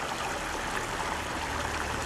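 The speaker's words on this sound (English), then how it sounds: "And this is the water feature out front." Water splashes continuously in a fountain water feature outside Takayama Station in Japan, a steady, even rush of falling water heard at moderate distance with no voices.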